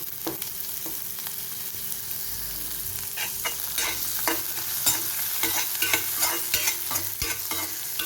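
Dried red chillies, onion and garlic sizzle steadily in a pan while a spoon scrapes and stirs, giving repeated close clicks and scrapes over the continuous fry, with no talk.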